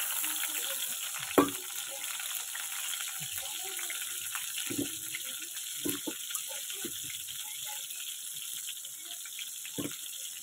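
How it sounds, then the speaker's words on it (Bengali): Eggplant (brinjal) pieces rubbed with salt and turmeric fry in oil in a wok with a soft, continuous sizzle, broken by occasional knocks and clatters from the pan. "তো বেগুনটা ভাজা হোক"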